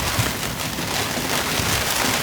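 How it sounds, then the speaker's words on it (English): Rain falls on a sailboat at anchor in a southerly blow, a dense, loud, continuous patter of drops on the deck and hull that stays steady and close throughout, with no voices. "All day southerly and rain"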